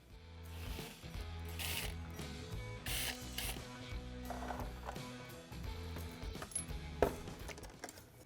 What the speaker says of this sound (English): we need to remove the front section of the skid plate